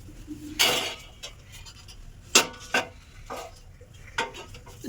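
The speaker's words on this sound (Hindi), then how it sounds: "ये सूजी मैंने जो सुबह सेकी थी वो है, अब मैं इसको मिला रही हूँ" A spoon scrapes and clinks against a metal pot as roasted semolina is stirred in a home kitchen, a few distinct knocks and scrapes spaced over a quiet background.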